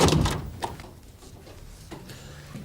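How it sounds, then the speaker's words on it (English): Door opened and shut in a police office room, a close thud followed by quieter creaks and rustles. "Shut the door, Andrew."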